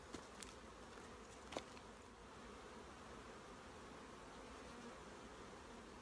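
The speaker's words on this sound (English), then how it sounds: "A few bees bouncing off my visor, indicating that they're a bit on the aggro side" Agitated, somewhat aggressive bees buzz steadily and close during a March honey harvest, a dense insect drone with a few sharp knocks as they bounce off a beekeeper's visor.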